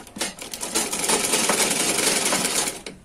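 Sewing machine stitching a trouser seam, running in one steady continuous burst close to the microphone, loud and even with no talking over it.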